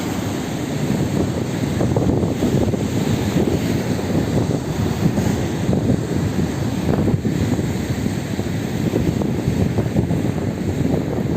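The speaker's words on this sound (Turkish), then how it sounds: "Gördüğünüz gibi dalgalar Ayancık sahiline bu şekilde vuruyor." Rough winter waves crash steadily onto the Ayancık shore on the Black Sea coast of Turkey, a loud continuous surf roar with repeated breaking surges, heavy wind buffeting the microphone throughout and no voices.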